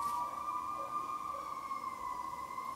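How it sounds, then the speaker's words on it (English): A fire engine siren from a nearby fire station holds a steady high wail throughout, distant and faint behind a quiet room, with no talk over it. "don't mind the sirens"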